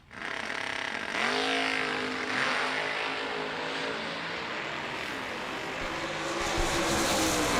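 Drag racing cars, including a roadster, launch down a vintage drag strip with a loud, sustained engine roar. The pitch climbs and sweeps as they accelerate away, with no talking.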